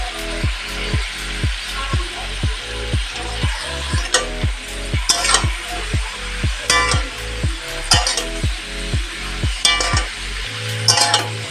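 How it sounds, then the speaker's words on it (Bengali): Vegetables stirred and fried in a pan with salt and turmeric, a steady sizzle broken by regular rhythmic scraping strokes of a spatula, about two per second, close and loud with occasional clinks. "তো সবজিটা এখন ভালোভাবে মজিয়ে নেব।"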